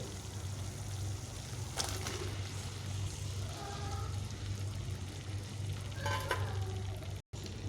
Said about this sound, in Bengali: ভেজে রাখা পেঁপে ও আলুগুলোকে দিয়ে মশলার সঙ্গে ভালোভাবে আমি আরও একটু কষিয়ে নেব